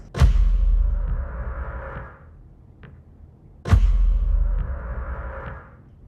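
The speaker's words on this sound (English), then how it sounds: "the main drum sound is these 4 sounds layered together" Two heavy drum hits, each four acoustic drum sounds layered together, land a few seconds apart, each a sharp boomy thump with a bright crashing tail that decays slowly.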